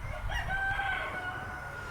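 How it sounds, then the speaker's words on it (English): A rooster crows somewhere in the distance, its drawn-out call faint under steady outdoor background noise. "That rooster knows it. No, he crows anytime."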